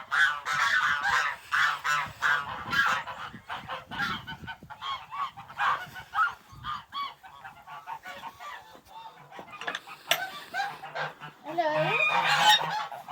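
A gander honks repeatedly in loud, close bursts, with some softer calls between and a stronger run of honks near the end.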